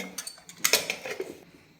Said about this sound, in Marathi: आता हे सर्व साहित्य आपल्याला छान असं मिक्स करून घ्यायचं आहे